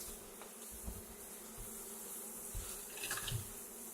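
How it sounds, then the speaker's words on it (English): Bees buzzing inside the structure of a house near removed hives, a faint continuous drone with soft hiss and occasional knocks, heard up close without talk. "plenty of bees in this house"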